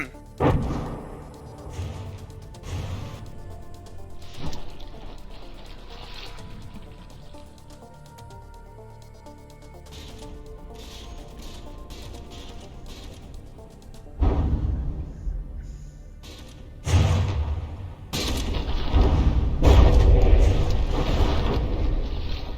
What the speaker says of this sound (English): The rear turret just got popped off.